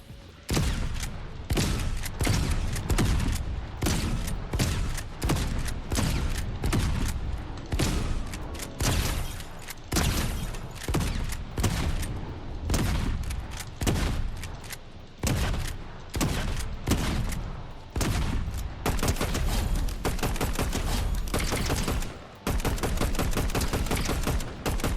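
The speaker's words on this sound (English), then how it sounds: "Let's try the shotgun." Rapid shotgun blasts from a Fortnite match ring out loud and close, dozens of sharp reports in quick irregular bursts with only short gaps between them, no talking.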